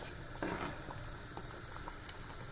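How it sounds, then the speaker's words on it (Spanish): Tripe soup (mondongo) bubbling in a pot, a soft, steady boil with faint popping and patter, quiet and continuous with no voices. "Miren el hervor de esta mondongada."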